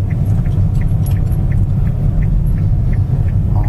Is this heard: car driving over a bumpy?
yes